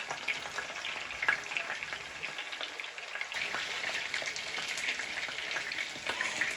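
Hot oil sizzling and crackling steadily in a frying pan, a continuous bright hiss with small pops, with no voices over it.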